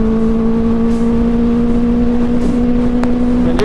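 Benelli 600i motorcycle cruising on a main highway, its engine giving a loud, steady drone that holds an even pitch throughout, with a slight shift near the end.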